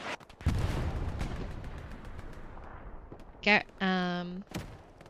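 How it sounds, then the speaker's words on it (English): Artillery fire in the Hell Let Loose video game, a heavy blast at the start rolling off into a long rumbling decay, under ongoing talk, followed later by a couple of sharp bursts. "oh wow, that artillery."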